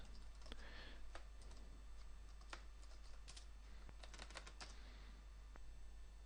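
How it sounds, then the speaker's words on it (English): Fast, irregular clatter of computer keyboard keys as code is typed, crisp individual clicks in quick bursts, fairly close and quiet, with no talking. "Now you see how fast I can type, right?"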